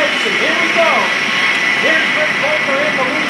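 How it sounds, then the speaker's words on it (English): A Sukhoi Su-26 aerobatic plane's engine roars steadily at an airshow, a broad sustained drone filling the whole stretch while a voice talks over it. "Here's Rick Volker in the lead with the Sukhoi Su-26 coming up behind."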